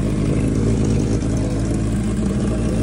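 A 1980 Suzuki GS1100E motorcycle engine runs loud and close on a road test, a continuous throaty drone with steady low rumble and no talk.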